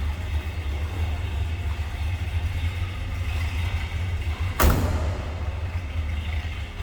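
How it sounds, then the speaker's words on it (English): A 1983 Chevrolet Monte Carlo SS with a cammed 305 V8 idles with a steady, lumpy low rumble close by, broken by one sharp knock or thud near the end. "Sounds like a little engine work was done to that. A little bit of a cam. Got kind of a rumble coming out of 305."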